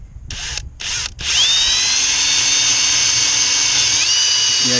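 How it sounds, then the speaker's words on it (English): A power drill bores a pilot hole into hard treated lumber: two brief trigger pulses, then a loud, sustained whine that holds steady and dips slightly near the end, close up. "this treated lumber gets like iron, and so I'm going to pre-drill this hole"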